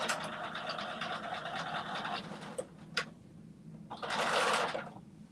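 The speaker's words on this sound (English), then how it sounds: "sew on our waistband" A sewing machine sews on a waistband, a steady close whir for about two seconds, then a few clicks and handling noises, followed by a brief scratchy burst of fabric movement.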